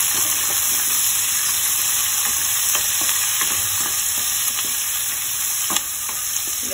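Garlic and curry leaves sautéing in a pan for Chettinad crab masala crackle with a continuous bright sizzle, broken by repeated scrapes and taps of a spoon stirring the pan, close up and with no talking.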